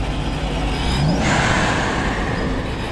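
A fast car accelerates hard nearby at a cars and coffee meet, the engine rising in a rough, climbing roar over steady road noise.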